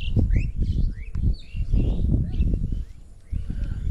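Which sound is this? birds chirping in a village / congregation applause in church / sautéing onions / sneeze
birds chirping in a village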